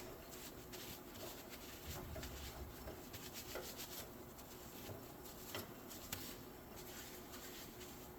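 Rag rubbing grease off a bench vise in a workshop, a steady soft scrubbing that runs throughout at low level with a few faint knocks.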